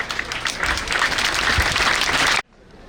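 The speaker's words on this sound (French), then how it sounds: "ensemble, on acclame le Seigneur" Audience at a 2022 graduation ceremony bursting into sustained, dense applause with scattered cheers for over two seconds, then cutting off abruptly into near quiet.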